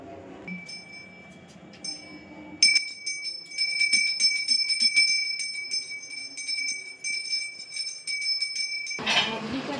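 A small hand bell rings during Hanuman Jayanti worship at home. A bright, sustained metallic ringing starts after a quiet, murmuring opening and continues for about six seconds of rapid, repeated strokes, then a burst of noise follows.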